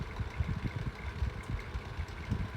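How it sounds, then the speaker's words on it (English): A 1980s Micromark 9 inch desk fan runs steadily with a low motor hum and a faint, irregular rattle from the grille, heard close and alone. "But the micromark runs smooth, apart from it being a bit rattly."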